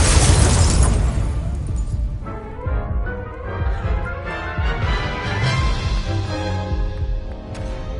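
An Incendio fire spell cast in the Hogwarts Legacy video game: a loud, booming burst of fiery blast that fades into crackling rumble under swelling game music, with no talking.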